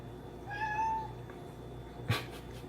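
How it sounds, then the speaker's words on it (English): A cat meows once, a clear rising-and-falling call near the microphone, followed by a brief sharp knock or thump, over a low steady hum. "my cat"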